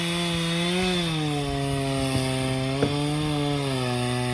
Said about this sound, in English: He's getting a chainsaw